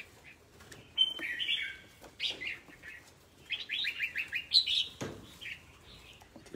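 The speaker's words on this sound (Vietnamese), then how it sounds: "Chim to lắm." Many birds chirp and call in quick, overlapping bursts, fairly close and loud, in a place holding around 200 large birds, with flapping wings among them.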